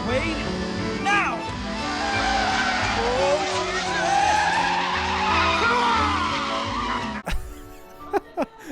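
A car from the 1992 film Scent of a Woman roars and skids with long squealing tires for about seven seconds, then cuts off abruptly before voices and short knocks follow.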